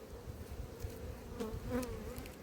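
Dense, steady buzzing of many bees around an open apiary hive, a close continuous drone with individual insects swelling louder as they pass near.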